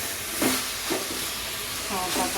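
A potato masala mixture is stirred in a pan over a steady frying hiss, with a few soft scraping strokes of the spoon recurring every half second or so.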